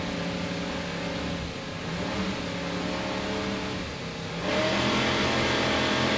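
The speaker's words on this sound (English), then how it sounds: "Let's listen to those Mercury engines as they rev up and start the race." Twin 800 hp Mercury inboard racing powerboat engines rev steadily at a race start off Daytona Beach, a loud continuous droning roar that swells sharply louder near the end, with no talking.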